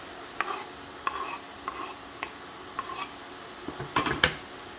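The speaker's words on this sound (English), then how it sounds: "We're going to stir that and get those all coated." Mushrooms and minced garlic stirred in a pan with a spatula: a series of soft scraping strokes spaced about half a second apart, with a faint sizzle underneath and a cluster of louder scrapes near the end.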